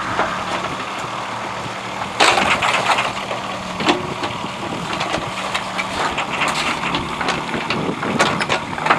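Digger engine running steadily as the machine is driven off the back of a truck during a lawn reseeding job, with clanks and knocks over the continuous engine rumble.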